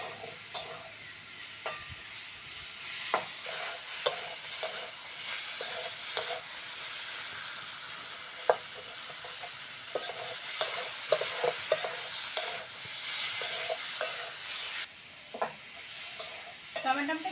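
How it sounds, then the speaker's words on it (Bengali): Green tomatoes cook in a pan while being stirred repeatedly, giving a soft steady sizzle with irregular scraping and clinking strokes throughout, fairly quiet and with no talking. "এরকমভাবে নেড়ে নেড়ে টমেটোটাকে পুরো সিদ্ধ করে নেব"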